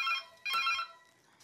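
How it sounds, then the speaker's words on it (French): A telephone in a home kitchen rings with two bright, tonal electronic bursts close together, the second fading out, heard clearly with no talking over it. "Tiens, le téléphone sonne."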